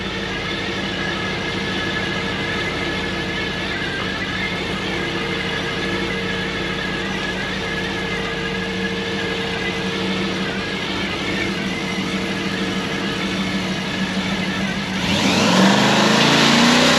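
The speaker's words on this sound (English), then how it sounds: "She's gonna do a nice big burnout again" A drag car called Elvira rumbles in a steady, loud engine drone, then surges into a harsher, rising roar near the end as the big burnout begins.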